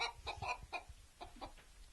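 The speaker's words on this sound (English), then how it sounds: "This is another silky hen." A small, fluffy silkie hen clucks softly in a series of short, quick, throaty notes, fairly faint and close, with no talking over it.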